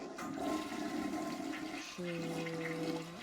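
A toilet flushes in the video game Sleeping Dogs, a rushing water swirl followed by a steady tonal refill hum, fairly faint.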